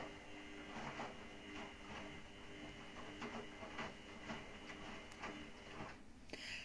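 Washing machine running a 40-degree wash, a faint steady mechanical churn with soft periodic swishing and clicks repeating about every half second, heard alone in a quiet room.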